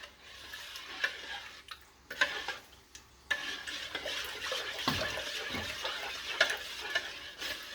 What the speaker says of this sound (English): it takes a little bit of stirring because I'm left-handed and not as efficient as a right-hander